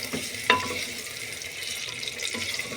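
Onions go into hot oil and are stirred, giving a steady, close sizzling hiss with a brief clink near the start. No voices are heard.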